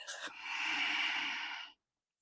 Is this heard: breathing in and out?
yes